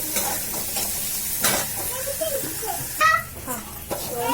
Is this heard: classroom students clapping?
no